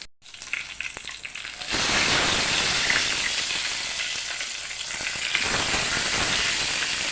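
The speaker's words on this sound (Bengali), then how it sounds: "আমি তেলের মধ্যে নুন হলুদ আর লঙ্কার গুঁড়ো দিয়ে দিচ্ছি" Cut eggplant frying in oil with salt, turmeric and chilli powder: after a quieter start, a sudden loud, steady sizzle erupts and continues close up, hissing like heavy rain.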